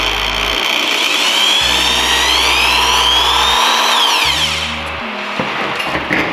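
A power drill bores holes in an aluminum pedal from a Rennline pedal kit for a BMW E46, a loud whining spin with rising and falling pitch as the bit bites into the metal, close up.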